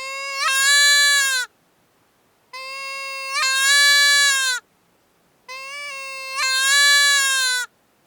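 Three long, loud bleats from a Dakota Yote Badlander mouth call blown through a hand-cupped barrel, imitating a fawn, each rising slightly and wavering before cutting off, separated by brief silences.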